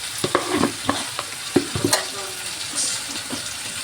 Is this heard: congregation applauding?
no